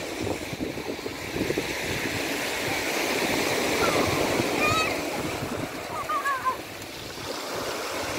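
Waves of the Adriatic Sea wash steadily onto a stony beach on an overcast day, a continuous broadband surge with some wind buffeting and faint distant chirps.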